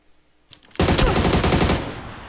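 A PUBG gun on the Sanhok map fires one sustained automatic burst of about a second. It is loud and close, starts abruptly after a short quiet lead-in and then tails off.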